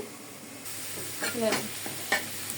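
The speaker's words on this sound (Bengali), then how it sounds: "ডালের জন্য পেঁয়াজ বসিয়ে পেঁয়াজ রসুন দিয়ে দিলাম তেলে" Onion and garlic frying in oil for lentil dal, a soft sizzle that starts partway through with a few stirring clinks and scrapes, fairly faint and close.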